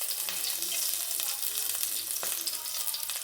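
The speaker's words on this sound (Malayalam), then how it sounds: "അതിലേക്ക് നമുക്ക് എണ്ണ ഒഴിച്ചു കൊടുക്കാം" Oil poured into a hot pan on the stove at the start of a Kerala-style egg roast, giving a steady, close, continuous sizzle and crackle with a few clinks, no voices.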